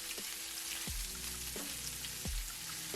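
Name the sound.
sliced onion sizzling as it sautés in a pan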